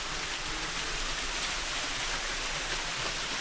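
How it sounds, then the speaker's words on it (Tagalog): Amelia Falls, a waterfall feeding a pool in the Sierra Madre foothills, produces a steady broadband rush of falling water, loud and continuous with no talk over it. "Ito yung Amelia Falls."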